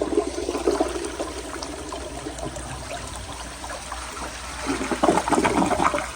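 A 1999 Universal Rundle Atlas ADA toilet flushes with a rushing swirl of water, easing into trickling refill before a second surge of gushing water near the end, heard close with no talk.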